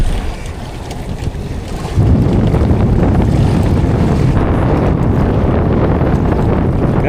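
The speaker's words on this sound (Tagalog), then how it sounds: "Grabe ang lakas ng hangin" Strong wind at sea roars across a small fishing boat, a loud continuous buffeting rush with wave and water noise that grows heavier after the first two seconds and holds steady, with no voices.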